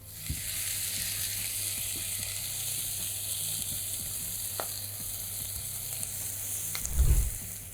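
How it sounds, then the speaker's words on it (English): Chopped white onions sautéing in a pan for lentil soup, a steady bright sizzle with a few light utensil taps and a dull knock near the end, close and without talk. "add in your white onions"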